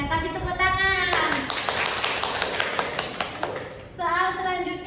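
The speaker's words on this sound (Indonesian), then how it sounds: "Kasih tepuk tangan." A classroom of children claps together in a quick burst of brisk, close hand claps lasting a few seconds, with a tonal voice heard before and after.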